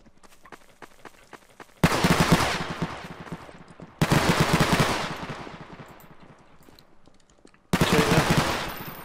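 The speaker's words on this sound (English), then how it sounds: "Oh shit, I just shot him." Three loud bursts of rapid automatic gunfire from Garry's Mod City Life roleplay, each starting abruptly and rattling for about two seconds, with quiet gaps between.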